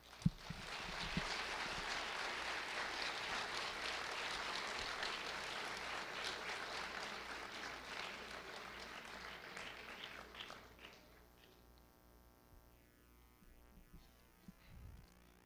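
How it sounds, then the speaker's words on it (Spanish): Audience at a student medical congress at a university in Ciudad Juárez applauding a doctor: sustained clapping from a crowd in a hall for about ten seconds, then fading out to a quiet room hum. "Un aplauso, por favor, para el doctor."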